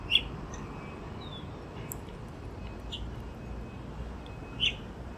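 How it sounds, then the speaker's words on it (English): Chalk-browed mockingbird giving a few short, sharp chirps spaced seconds apart, faint and outdoors over a low background hum. "Okay, so the bird is the chalk-browed mockingbird."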